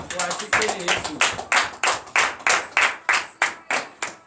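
A church congregation claps together in acclamation during morning prayer in Benin, a loud rhythmic series of about nine evenly spaced group claps at roughly two per second, with a voice briefly heard at the start.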